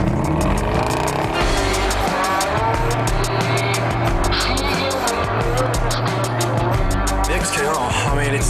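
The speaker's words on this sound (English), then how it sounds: "When you rev the beast, it growls at you" A Jaguar sports car engine revs with a loud, steady growl that holds throughout, with dense, close rumbling and no breaks.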